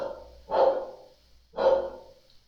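Two loud, close barks from a pet dog, evenly spaced about a second apart, with quiet between them and no talking.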